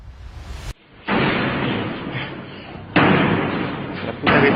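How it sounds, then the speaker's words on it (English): A dressing room door at a football stadium in Buenos Aires slams shut, with a sharp, loud impact followed by a dense, booming roar and then another heavy slam, all reverberant and close. "when security guard Raúl Arguello heard the dressing room door slam shut for the third time."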